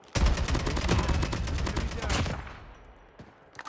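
Rapid bursts of automatic gunfire crackle in Call of Duty battle royale, loud and close for about two seconds before trailing off into quieter distant shots.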